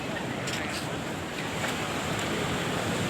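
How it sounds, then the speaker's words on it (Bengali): Ocean waves roll in at Cronulla Beach toward a seaside pool, a loud, constant roar of surf with wind buffeting the microphone and no speech heard. "ঢেউটা কত বড় হয়ে আসছে, ঢেউগুলো কিন্তু পুলের দিকে আসতেছে।"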